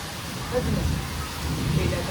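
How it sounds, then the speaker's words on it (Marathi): Rain falls steadily on surfaces outdoors in a soft continuous hiss, moderately faint and even throughout, with no talking. "पाऊस आला पाऊस आला"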